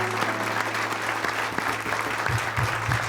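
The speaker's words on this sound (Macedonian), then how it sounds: "Аплауз за Пеперминт" Studio audience applauding for Peppermint on a talk show: a dense, steady wash of clapping from a crowd, close and lively, sustained for a few seconds with a few heavier low thumps near the end.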